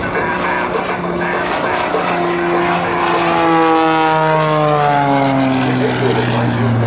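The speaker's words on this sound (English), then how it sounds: "Let's watch as Ed dives his dream machine toward show center, looking for three winglets" An aerobatic propeller airplane dives toward show center at an Air National Guard airshow, its engine drone loud and steady while the pitch slides downward as it passes.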